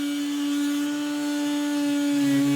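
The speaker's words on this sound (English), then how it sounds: "I'm actually going to use my little DeWalt multi-tool, and we will get that cut out." A compact DeWalt oscillating multi-tool cuts a bumper cutout on a 2021-plus sixth-generation Ford Bronco, giving a loud, steady high-pitched buzzing whine that holds constant throughout, with no talking.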